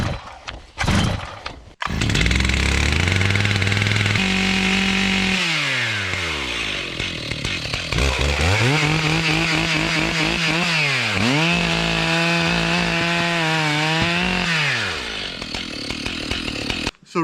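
A chainsaw cutting into a tree on steep ground: the engine starts after short pulls, then roars loudly and continuously, revving up and down as it bites into wood.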